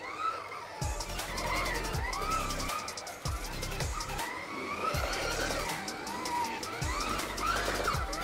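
Scalextric slot cars racing around a large home track during a Grand Prix, electric motors whining and repeatedly rising and falling as the cars pass close by, with faint voices behind.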